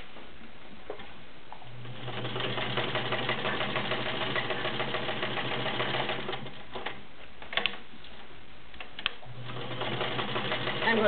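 Kenmore 1757 heavy-duty sewing machine stitching through six layers of denim, a steady close mechanical whirring chatter running for most of the stretch, pausing briefly in the middle before starting up again.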